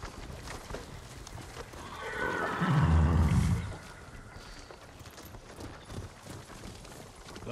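Horse neigh in the video game Ghost of Tsushima, one loud whinny rising and fading over about two seconds, set against soft hoof clip-clops and outdoor ambience.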